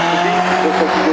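Vintage race car driving carefully on a damp road at the Hamburg Stadtpark Revival, a loud, close engine drone with a steady tonal hum, while a commentator talks over it.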